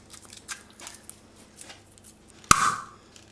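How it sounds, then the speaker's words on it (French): A champagne bottle opened during a tasting, with quiet foil and cage handling followed by a single sharp cork pop and a brief fizzing hiss of escaping gas. "je te propose d'ouvrir une bouteille et on va déguster"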